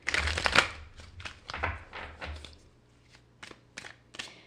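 Tarot cards being shuffled and drawn: a few dense riffling bursts early on, then lighter, scattered flicks and slides of cards, close and moderately loud, with no talking.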